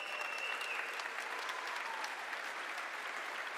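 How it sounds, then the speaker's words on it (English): Faint, distant applause from a crowd in a theatre at PAX West 2021, a steady patter of clapping that stays even throughout with no voices. "Big round of applause for him."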